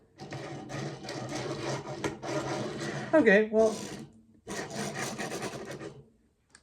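A Transformers Studio Series Arcee figure rolled across a wooden surface gives a close, steady rasping rumble in several long stretches, with a brief spoken word partway through.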